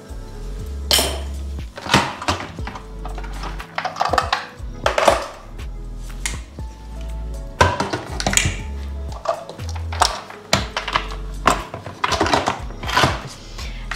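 A cooking pot holding meat for Kazakh beshbarmak is covered with its lid, amid a series of loud metallic clanks, clinks and knocks of cookware that come in irregular bursts throughout.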